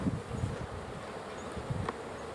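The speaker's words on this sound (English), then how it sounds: "brace yourself for a large quantity of not the happiest bees" Honey bees from a queenless hive buzzing during an inspection, a continuous near droning hum with passing individual bees, faint rustling underneath.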